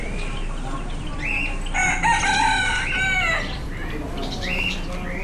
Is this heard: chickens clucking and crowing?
yes